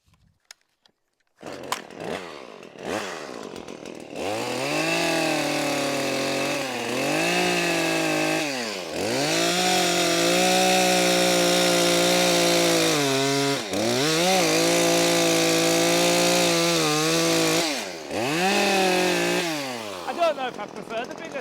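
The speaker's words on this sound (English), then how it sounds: "I prefer the bigger saw, Davey." Powered saw cutting timber for a garden office build, starting after a brief pause and running as a loud, sustained whine that dips and rises several times as the blade bites, with no voices.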